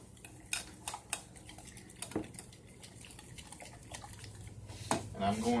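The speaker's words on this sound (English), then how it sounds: "And whisk it together." Lemon juice mixture being whisked in a bowl for a Christmas dinner dish, quick metallic clinks and taps of a whisk against the bowl in uneven bursts, fairly close and soft, with a voice in the background.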